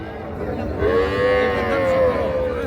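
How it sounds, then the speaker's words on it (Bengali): A young calf at a cattle market gives a single drawn-out moo, loud and near, rising and holding for over a second over faint background market noise. "এগুলো সব ছোট ছোট বাছুর।"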